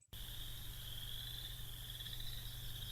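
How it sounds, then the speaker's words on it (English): A loud, dense chorus of frogs calls nonstop from a marsh, a steady shrill trilling at full level with no gaps between calls. "there's no way you could reasonably estimate the number of frogs in this chorus"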